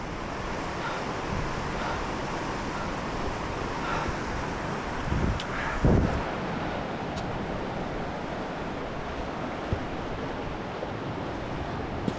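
Dartmouth Rapids on the river at Ohiopyle among large shoreline boulders, a continuous broad rushing roar of whitewater, steady and enveloping, with a few brief louder bursts partway through and no talking.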